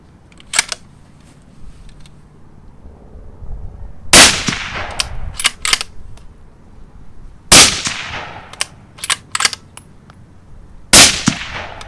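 An Anschutz 1782 hunting rifle in .243 fires three sharp, loud reports spaced a few seconds apart on a shooting range, each followed by brief metallic clicks and clatter.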